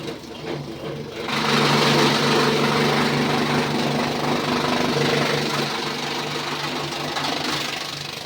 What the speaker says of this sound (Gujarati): બટર મશીન હાલે છે અને આપણે કટિંગ થાય છે